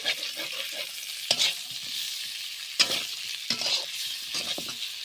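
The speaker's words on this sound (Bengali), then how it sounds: "আলুগুলো একটু লাল লাল করে বেশ খানিকক্ষণ ধরে ভেজে নেব" Potato and cauliflower pieces fry in hot oil with a steady soft sizzle, broken by several scraping, clinking stirs of a utensil in the pan.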